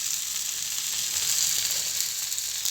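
Vanjaram fish fillets frying in hot oil in a pan, giving a steady, loud, close sizzle with a dense crackling hiss that holds evenly throughout, with no voices.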